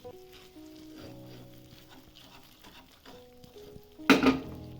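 Ghee poured into a Mysore pak mixture as it is stirred and fried in a pan, a steady soft sizzle with scraping stirs, then a sudden louder hiss and crackle near the end as the fat hits the hot mixture.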